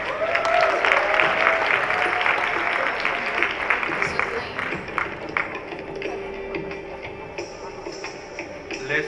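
Audience applause fills a fashion show hall, a steady dense wash of many hands clapping for several seconds, fairly loud with a slight fade toward the end.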